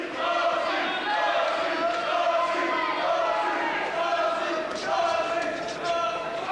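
Boxing crowd in an East End venue cheering on fighter Steve Osbourne, a steady dense roar of voices with scattered shouts that swells and dips slightly without pause.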